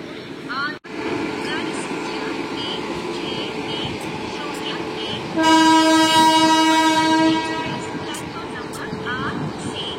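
A Tambaram–Coimbatore special fare express passenger train runs along steadily, wheels rumbling loud and close, with a long horn blast sounding partway through and voices talking over the train noise.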